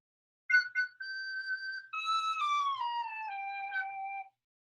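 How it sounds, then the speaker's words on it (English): A sopranino instrument playing a few short high notes, then sustained pure, whistle-like tones stepping gradually downward in pitch, solo and fairly clear with no talking. "So here's my sopranino."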